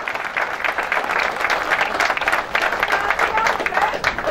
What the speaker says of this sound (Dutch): ik hoor applaus voor de leider in het klassement